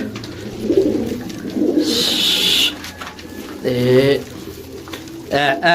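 Pigeons of a mixed flock from Dera, one with blue bars, cooing in bursts close by while someone talks over them, with short chirpy calls near the end.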